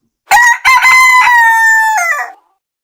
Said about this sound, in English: This one, this rooster sound also so fucking cute.